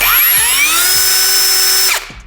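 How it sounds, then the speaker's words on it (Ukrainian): The brushless motor of a PROCRAFT cordless saw whines at a high, steady pitch, spinning loud and close, then cuts off and winds down near the end. "І ось так приємно звучить безщитковий двигун, який встановлений у даній пилі."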